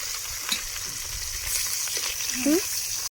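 Steady crackling sizzle of fish frying in hot oil, close by, with a brief spitting burst near the end and a faint voice in the background.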